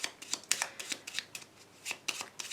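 A small Lenormand deck is shuffled by hand for a weekly card reading, giving a quick run of soft, close riffling flutters in short bursts with brief pauses between them.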